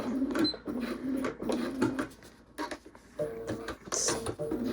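A sewing machine stitches beneath a card slot on a raw-edge leather wallet, a rapid close mechanical chatter in uneven bursts with brief stops.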